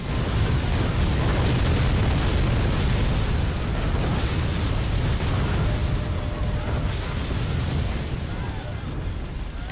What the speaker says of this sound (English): Keep those nukes a-firing.